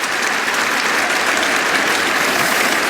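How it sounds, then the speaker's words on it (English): A crowd at a cricket Test match between England and India applauds, a loud sustained wash of clapping lasting several seconds with no voices over it. "I was trying to work out what the clapping was."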